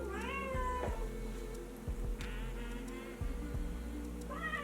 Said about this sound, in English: She's meowing at all of the like seagulls.